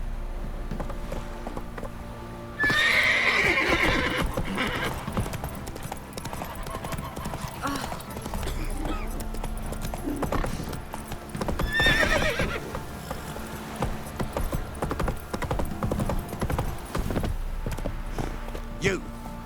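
Roach, the horse in The Witcher 3, gallops with quick rhythmic hoofbeats and lets out sharp whinnies, while voices speak over the running clatter at intervals.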